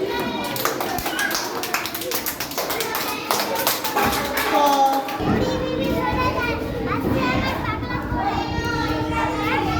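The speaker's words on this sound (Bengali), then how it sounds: "হাততালি" Group of children clapping their hands, a rapid uneven run of sharp claps at first, then giving way to excited children's voices and play noise in a lively room.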